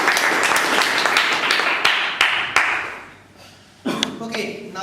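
Audience applause at a Toastmasters meeting, a loose patter of hands from a small room that thins out partway through, then swells again briefly at the end with a voice coming in over it.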